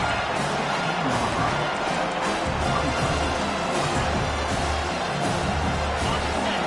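A stadium crowd at a South Carolina versus LSU college football game roars loudly and continuously, a dense wall of cheering and noise sustained throughout with no clear talk above it.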